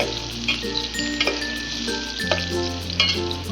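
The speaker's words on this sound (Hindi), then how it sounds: "प्याज को सुनहरा होने तक के भूनना है।" Onions sizzle steadily in hot oil in a pot, with a continuous close frying crackle and occasional stirring scrapes throughout.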